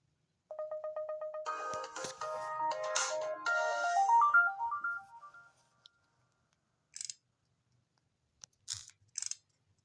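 An LG Rumor Touch phone from 2010 powers on with a startup jingle of bright tones and a rising run of notes, followed by a few short, faint beeps after a pause.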